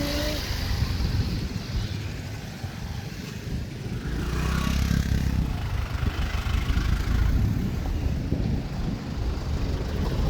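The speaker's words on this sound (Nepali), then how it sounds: "कति धेरै बाइकहरू" Steady engine drone of many motorbikes in traffic in Kalanki, rising as one passes close around the middle, with wind buffeting throughout.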